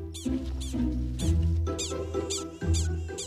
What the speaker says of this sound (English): The prairie dogs are certainly being vocal.